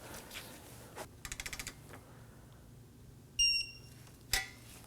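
A torque wrench ratchets in a quick burst of small clicks while tightening radiator nuts to 6 foot-pounds on a 2016-2020 Kia Sorento 2.4L, followed later by a short tonal chirp and a single sharp click in a quiet workshop.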